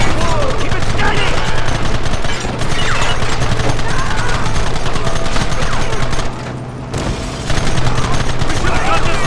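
Dense, continuous volleys of gunfire from a Red Dead Redemption shootout, loud and close, with rapid overlapping shots and a brief lull near the end, under shouted in-game voices.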